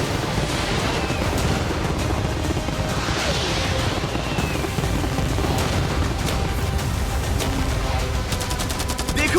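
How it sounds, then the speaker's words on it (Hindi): A dense, nonstop barrage of game weapons (cannons, fireworks, arrows and catapults) all fired together while defending a yard, forming a loud, continuous wall of crashing, popping blasts with no pauses and no talk. "मैं चाहता हूँ कि तुम कैनन्स, फायरवर्क्स, एरोस, कैटापल्ट्स सब कुछ एक साथ फायर करो।"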